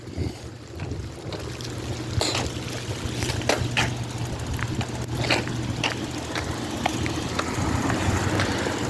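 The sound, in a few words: heavy rain pouring outside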